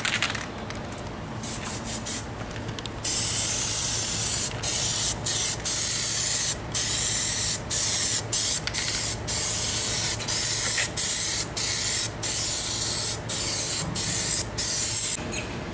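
PlastiDip finishing coat sprayed from an aerosol onto a car wheel: loud, close hissing, first a brief sputtery spray, then a long run of steady bursts roughly a second each, separated by short pauses, with no voices.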